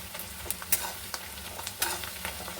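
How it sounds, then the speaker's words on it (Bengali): Onions fry with bay leaves in a pan for a home-cooked chicken curry, a soft, steady sizzle broken by light scraping and stirring clinks, close and fairly quiet, with no talking. "এখানে আমি পেঁয়াজটাকে লাল লাল করে ভেজে নেব"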